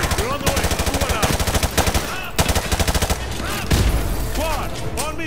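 Call of Duty Modern Warfare 2 combat with heavy automatic gunfire: close, loud machine-gun bursts with rhythmic pulses of shots, layered with more distant firing.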